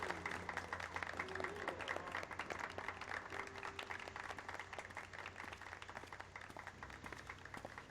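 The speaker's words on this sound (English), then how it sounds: "Clap, clap, clap, clap, clap, clap, clap." Continuous crowd applause in a Final Fantasy XIV cutscene, steady dense clapping over a low musical drone for the whole stretch, moderately quiet.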